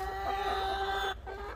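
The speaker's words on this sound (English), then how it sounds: "look at my client's chickens" Backyard hens cluck and murmur close by in a steady, chattering run, briefly tapering near the end, with no voices over them.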